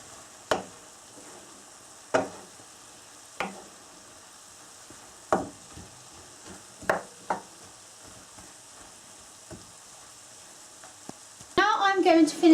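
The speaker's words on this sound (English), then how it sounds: "Now let me give the stir fry a quick stir" A stir fry sizzles softly in a hot pan while a utensil strikes and scrapes it in sharp, intermittent knocks every second or two, ending in a louder burst of sizzling and clatter as it is stirred.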